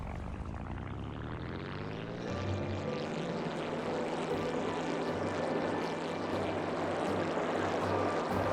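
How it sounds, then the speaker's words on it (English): A propeller plane engine in a flight video game starts up, a steady hum swelling after about two seconds into a constant droning rumble with a rising whine. "Let's start up the plane."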